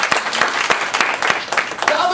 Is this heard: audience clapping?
yes